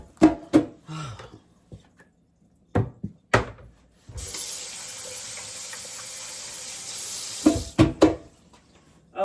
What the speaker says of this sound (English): let me rinse my hands back off again